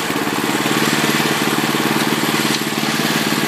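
A homemade UTV side-by-side built from junk parts runs steadily with a loud, close, pulsing engine drone and a constant mechanical chatter, the tone barely changing through the gear shifts.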